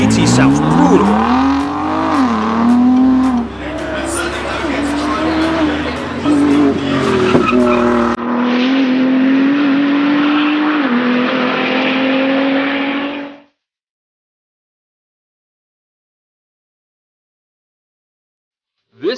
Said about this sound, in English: The Ford GT sounds brutal.